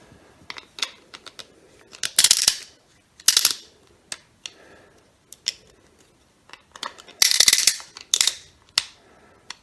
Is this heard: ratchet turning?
yes